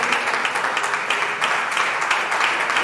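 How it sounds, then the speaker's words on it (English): Steady, dense applause fills a school long service awards gathering for the decoration team, a loud continuous wash of many hands clapping with no pauses. "Can you all just stand for us to give you a round of applause?"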